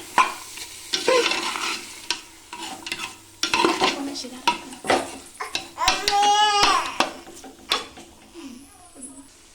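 Half a kilo of washed rice mixed in a pot for a homemade vegetable pulao: close, repeated wet scraping strokes with soft sizzling in an uneven rhythm.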